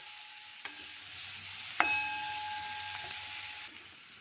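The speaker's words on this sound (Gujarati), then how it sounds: "એને આપણે હલકી હલકી બ્રાઉન કલરની શેકી લઈશું" A small bowl of chopped onion frying in oil with cumin until light brown, a soft steady sizzle with a couple of ringing metallic taps from a spoon on the pan, then the hiss drops near the end, no talking.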